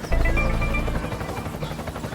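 Cartoon helicopter with a steady rotor thrum and whine, fairly loud and continuous, without talk.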